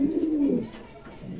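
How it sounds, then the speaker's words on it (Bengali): A pair of black Lahori pigeons in a shop gives a close, throaty coo that rolls for about half a second, then trails into softer murmuring with faint background noise. "এখানে 1 জোড়া লাহোরি আছে, দেখেন চমৎকার 1 জোড়া লাহোরি আছে, কালো লাহোরি"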